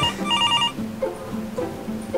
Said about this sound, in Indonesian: Paling alarm handphone doang